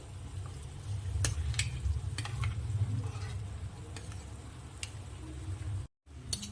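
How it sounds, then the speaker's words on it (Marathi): Grated egg being stirred into sizzling masala in a pan for egg kheema, a steady frying hiss with scattered spoon scrapes and taps close up. "आता याला छान असं मिक्स करून घ्यायचं आहे आपल्याला छान असं परतून घ्यायचं आहे"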